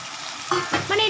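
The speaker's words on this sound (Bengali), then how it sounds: "একটু আমি ছড়িয়ে দিচ্ছি জলটা আচ্ছা। যাতে সেদ্ধ হয়ে যায় তরকারিটা" Water sprinkled over a potato, capsicum and tomato curry in a hot pan sets off sharp sizzling bursts, with a few quick stirring scrapes in close succession.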